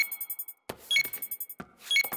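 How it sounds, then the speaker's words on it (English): Cartoon library computer beeping in short repeated electronic bleeps with bright chiming tones, a few bursts of activity between them, fairly quiet and clear with no talk. "Why is the computer beeping?"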